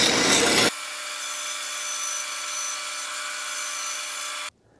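A fin is trimmed off a wooden piranha model for an automata base with a steady, whining power tool grinding against the wood, loud and close, after a brief rougher scrape, then abruptly stopping.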